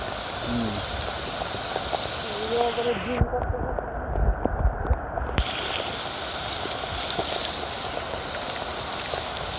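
Steady rain falls over a village, a continuous close wash of hiss with scattered heavier patter throughout and faint voices underneath.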